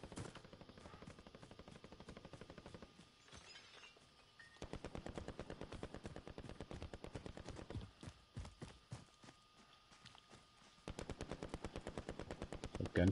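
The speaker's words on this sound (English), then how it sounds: "The gunfire is fairly close, ain't it?" Rapid automatic gunfire rattles in long, sustained bursts with short pauses between, fairly close and dominant throughout, in the video game Call of Duty: Modern Warfare.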